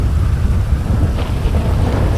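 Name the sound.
rain and thunder in the video game GTA 5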